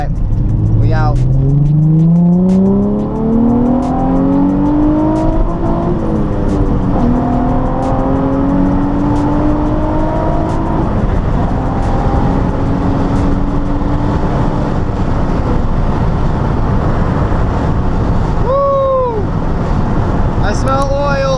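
A 2006 Nissan 350Z with a muffler delete is driven hard, its loud raspy exhaust rising and falling through gear changes under heavy wind noise, with a brief voice near the end.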